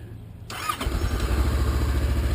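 A 2016 Honda CB500X motorcycle engine cranks and fires up abruptly, then settles into a steady, close, rumbling idle with no talking.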